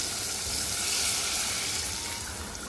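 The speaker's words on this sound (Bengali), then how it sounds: "ভাজা ভাজা করে ফেলবো" Spice paste with cumin powder frying in a pan with a splash of water for a Bengali fish curry gives a steady, dense, close sizzle that holds evenly throughout.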